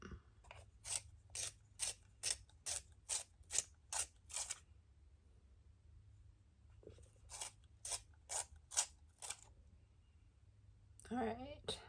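A Burt's Bees eyebrow pencil is twisted in a small sharpener in two bursts of quick, rhythmic scraping clicks, close up and quiet, then a brief rustle.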